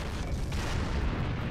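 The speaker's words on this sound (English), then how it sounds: "A lot of explosions." Sustained, dense rumble of explosions in the Heroes and Generals World War II shooter game, loud and continuous with no clear breaks or talking.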